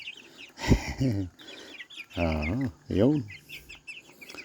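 Chickens cluck in a few short, loud, nearby bursts, with a brief spoken word between the calls.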